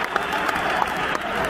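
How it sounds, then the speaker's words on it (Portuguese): Stadium crowd applauding steadily as a substitute comes on during a Sporting versus Midtjylland football match at Alvalade, a dense continuous clapping texture with scattered louder claps throughout. "Chermiti entra aplaudido"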